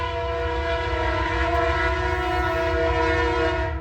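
A train passing close by blows a long, steady horn, the sustained tone holding loud over the rumble of the moving cars with no voices, heard at a winter stealth camping spot.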